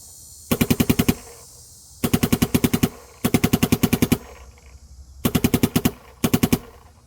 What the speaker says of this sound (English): I'm just going to dump this hopper down range, and you can see if you can hear an audible difference here.